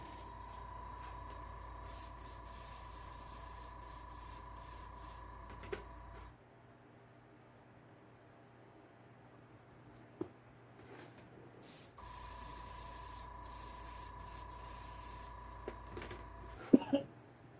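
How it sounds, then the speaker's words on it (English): An air compressor hums steadily while an airbrush sprays model paint onto a 1/48 scale Corsair Mk II outdoors, the airflow hissing in long bursts, stopping for several seconds and then starting again, with a few small clicks. "Turn the compressor back on."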